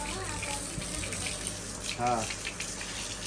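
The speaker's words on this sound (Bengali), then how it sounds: "ভিজা গাছে জল দিবে এখন।" Water pours steadily from a tap or container to water plants during a dry, hot spell, a continuous close gushing splash with a short word spoken over it.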